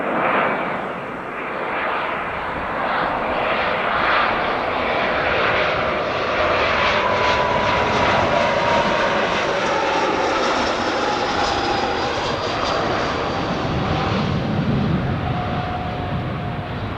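An airplane lands at Spirit of St. Louis Airport, its engine a steady, loud, broadband roar that holds for the whole stretch without fading, with no voices over it.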